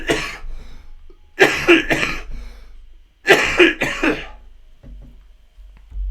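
A man coughs in harsh bursts, two or three coughs at a time in three separate fits, close and fairly loud, with a faint low hum underneath and no talk.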